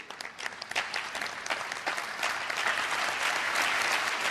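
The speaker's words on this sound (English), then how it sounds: "Let's give them a round of applause." An audience at an energy conference in Namibia claps steadily, and the applause swells a little and stays full over several seconds of continuous clapping.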